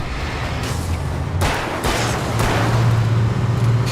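Gunfire in the Alan Wake video game, a few broadband bursts over a steady low rumble of game noise and music, fairly loud and close, with no talk.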